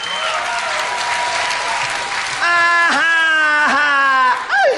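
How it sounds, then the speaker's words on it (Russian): A comedy club audience gives loud applause, and clear musical tones with pitch bends join partway through as a number begins. "Давайте это сделаем вместе с вами под ваши громкие аплодисменты."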